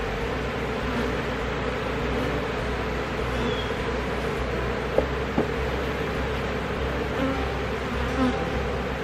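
A steady, dense buzzing of many honey bees close by in a Layens hive, continuous throughout with a couple of faint knocks partway through.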